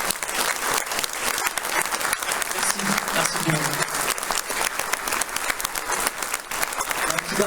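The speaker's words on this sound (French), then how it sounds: "Je demanderai une dernière fois d'applaudir encore très fort les musiciens qui sont derrière moi" A concert audience in Montrichard applauds the musicians, dense, sustained, loud clapping throughout, with a voice briefly speaking over it.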